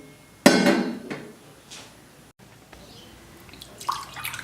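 A metal pot is set onto a gas stove for masala tea, landing with one sharp clank followed by a couple of lighter knocks. A faint rattle sounds near the end over quiet room noise.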